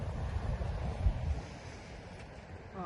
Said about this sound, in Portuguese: Chegamos no mar, chegamos na praia